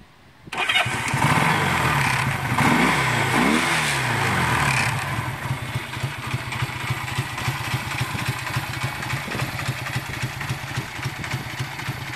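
A 1965 Honda CA77 Dream 305 engine cranks with an electric starter, catches and revs loudly, then settles into a steady, throbbing motorcycle idle close by.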